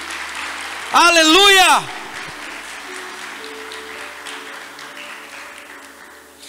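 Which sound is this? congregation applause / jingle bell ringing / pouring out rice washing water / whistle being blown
congregation applause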